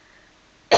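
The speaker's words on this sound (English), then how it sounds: "I'm probably going to be coughing throughout all these videos." A single sharp cough bursts out near the end after a stretch of quiet room tone, close and fairly loud, from someone who is still sick.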